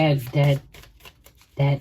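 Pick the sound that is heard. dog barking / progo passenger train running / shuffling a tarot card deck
shuffling a tarot card deck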